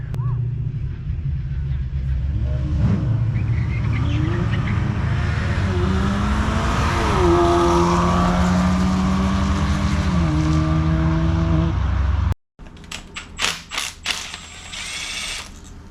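A white BMW races down a drag strip, its engine droning loud and steady, then rising in pitch through gear changes before abruptly cutting off into quieter crackling and clatter at the end.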